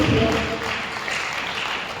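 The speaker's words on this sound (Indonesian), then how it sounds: "Tepuk tangan bagi Tuhan Yesus." A church congregation breaks into brief applause during a sermon, a dense, even patter of clapping that fills the room for about two seconds.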